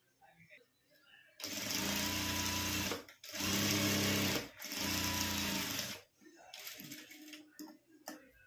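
A sewing machine stitches lace onto cloth in three loud, close, continuous motor runs separated by short pauses, with quiet handling noises between and afterward.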